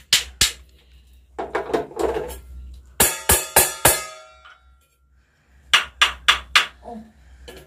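Wood, a pot and a stone are struck in turn for a sound-guessing game, making sharp knocks and clangs in quick groups of three or four hits. Soft talk is heard between the groups.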